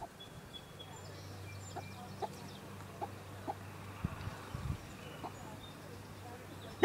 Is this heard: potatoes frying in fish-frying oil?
no